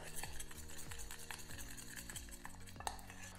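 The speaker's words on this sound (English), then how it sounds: "So I'm just gonna sprinkle a little bit in each of these pans and mix it into the Isomalt." Titanium dioxide powder is stirred into melted isomalt in small pans, giving repeated scraping and clinking strokes of a utensil against the pan at an uneven rhythm, close and fairly quiet, with no voices.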